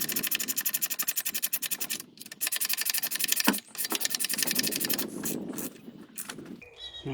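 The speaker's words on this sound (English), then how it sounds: "Last bolt going in." A bolt is run into the front subframe of a 2003-era Ford Mondeo Mk3 ST220 with a rapid, rhythmic power-tool chatter, loud and close, pausing briefly twice before resuming and trailing off.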